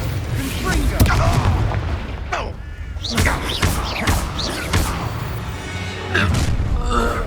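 Spells cast in Hogwarts Legacy produce loud booms, thuds and whooshing bursts in quick succession during combat, mixed with shouted incantations and game noise.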